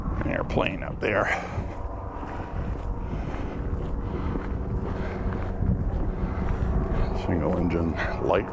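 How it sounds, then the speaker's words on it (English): A single-engine light propeller airplane drones overhead during an outdoor walk, a faint steady hum under wind buffeting on the microphone, with a person's voice briefly heard near the start and end. "Single engine light prop."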